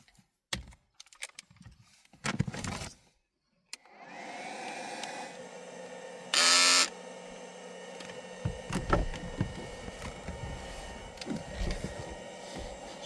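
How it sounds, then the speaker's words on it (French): An electric hair trimmer used for shaving hums steadily for several seconds after a few clicks and handling knocks, with scraping and crackling as it works and one brief louder burst midway. "ça me permet du coup de me raser avec mon rasoir. Enfin, mon tondeuse"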